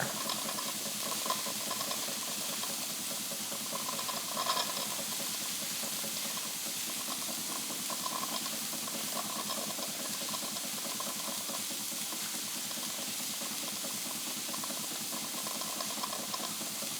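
A Wilesco D20 model steam engine running smoothly with its boiler at about 2.7 bar and visibly boiling, giving a steady hiss with a fast, even mechanical chuff underneath, close and moderately quiet.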